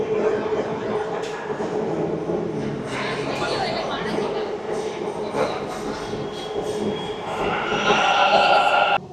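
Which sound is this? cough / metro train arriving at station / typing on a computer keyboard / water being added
metro train arriving at station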